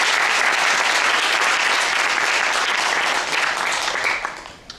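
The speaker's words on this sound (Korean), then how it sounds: "오늘 이 자리 빛내주신 세 분께 다시 한번 감사 박수드립니다" An audience at a Korean baseball society panel discussion applauds its three panelists with loud, dense, sustained clapping that carries steadily and then tapers off near the end.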